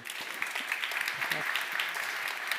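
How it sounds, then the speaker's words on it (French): Audience at a French retail business conference claps in a steady, moderately loud wash of applause, with faint voices mixed underneath. "On peut vous applaudir aussi pour cette..."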